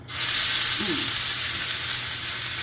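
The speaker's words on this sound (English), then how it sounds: "Sizzle." Food sizzles in a hot pan as it is set down, a sudden onset of steady close frying hiss that continues evenly, with a faint brief voice-like murmur early on.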